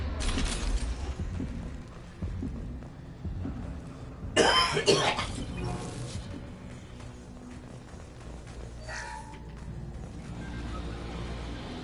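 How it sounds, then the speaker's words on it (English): A man lets out a few harsh coughs and throat-clearing sounds, one burst much louder than the rest, over a low background hum from a game of Mass Effect 2. "Sorry if I'm coughing, I just had a lot of coughs"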